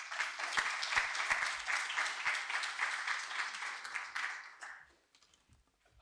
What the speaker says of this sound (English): Once again, a hearty round of applause for our esteemed colleague